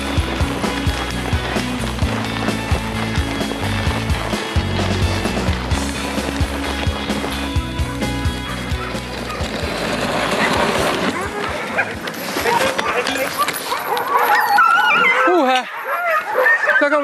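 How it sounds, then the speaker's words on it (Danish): Sled dogs pull a dog sled through snow outside Røros in Norway, with a steady rushing and scraping of runners, panting dogs and occasional barks, under continuous talking. "Kør hundeslæde her, sneen der sprøjter op, hundene der bare pisker ud igennem sneen"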